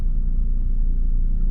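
Heavy Sunday car traffic on a busy city street in the Philippines makes a steady low rumble of many engines close by, with no voices.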